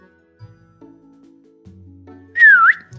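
A person whistles to imitate a fantasy character's whistle-tongue speech during a tabletop role-playing session, one short, loud, sliding whistle after quiet low tones.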